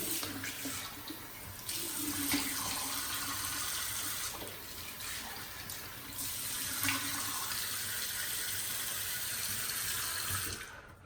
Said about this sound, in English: let me kind of wash off my face.